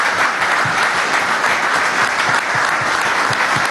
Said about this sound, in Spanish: para ustedes un aplauso de apoyo, de impulso y de amor